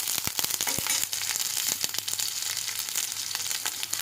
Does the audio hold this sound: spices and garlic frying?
yes